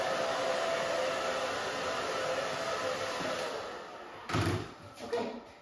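Hair dryer on a low setting blowing across hair, a steady whooshing drone that fades slightly, followed by a few soft thumps and rustles near the end.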